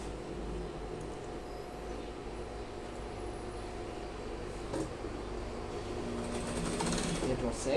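A sewing machine stitches the inseam of a pair of trousers, a steady running hum holding throughout at moderate level and swelling slightly toward the end, with faint background murmur.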